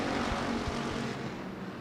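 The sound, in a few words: race cars accelerating at Devil's Bowl Speedway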